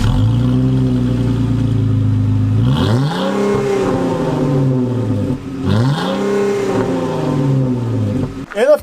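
Lifted Jeep Wrangler with an aftermarket exhaust and air intake revving hard, its engine note climbing twice in loud, sustained pulls before dropping off abruptly at the end.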